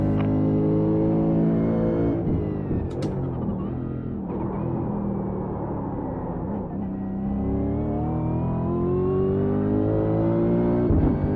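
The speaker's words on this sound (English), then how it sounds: "This big V8 supercar, it's big and heavy and has a lot of power." A big, heavy V8 supercar engine in a racing video game revs and drones continuously, its pitch rising and falling through gear changes as it accelerates, loud and steady with no talking.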